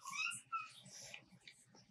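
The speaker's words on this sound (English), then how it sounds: "My cat is talking to me." A pet cat gives a few high, wavering meows close to the microphone in a quiet room.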